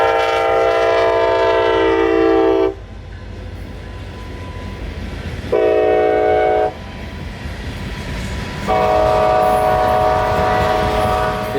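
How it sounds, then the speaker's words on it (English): CSX freight train 4032 rumbles past up close, its horn blaring in three loud sustained blasts separated by pauses, over a constant rolling roar of wagons. "the leader from this train tonight was CSX number 4032. And surprise, it's back"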